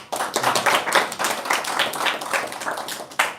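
A seated audience at a religious discourse gives a brief round of hand clapping, fairly close and moderately loud, with individual claps clearly audible through the short burst.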